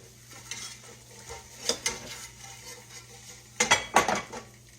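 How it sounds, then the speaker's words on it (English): A spoon stirring and scraping in a cooking pot, with soft metallic clinks and scrapes that grow sharper and louder near the end, heard close up without talk. "Make sure you stand there and stir it."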